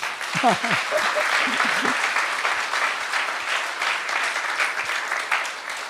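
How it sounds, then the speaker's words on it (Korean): Sustained applause from an audience fills the room, steady and dense throughout, with a brief voice heard near the start. "박수 한번 나와요"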